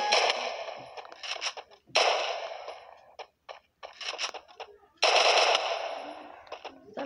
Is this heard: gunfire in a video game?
yes